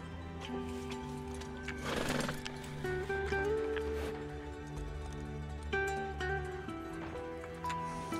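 Horse whinnying and hooves in the video game Red Dead Redemption 2, a loud neigh near the start over steady clip-clop footfalls, with game music and ambient tones underneath.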